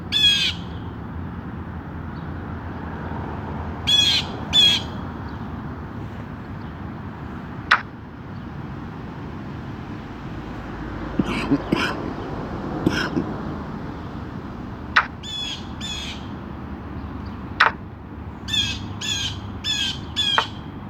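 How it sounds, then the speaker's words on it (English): A small bird calls from just overhead outdoors, sharp squawking bursts repeating at irregular intervals over a quiet background hiss, loud and close. "Got a little bird right over my head."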